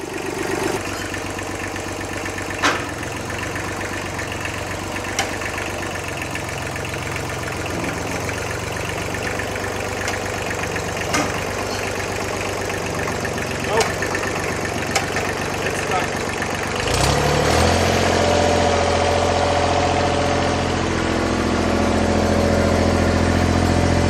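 A 50-year-old Kubota tractor stuck in gear runs at a steady idle with occasional knocks, then its engine note deepens and grows louder near the end as it is pushed harder.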